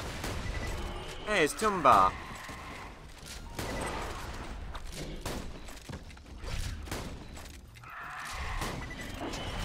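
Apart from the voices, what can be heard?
continuous gunfire in Borderlands 2 video game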